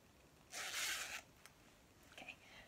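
A clothing zipper is pulled up in one quick, close rasping stroke lasting about half a second, followed by a few faint clicks and light handling sounds.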